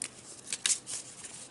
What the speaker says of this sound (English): so we're going to shuffle all these together.